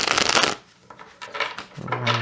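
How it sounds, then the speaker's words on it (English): Tarot cards shuffled by hand in a riffle-like burst at the start, then a few softer card slides and taps before more shuffling near the end. "I will do a few shuffles on screen"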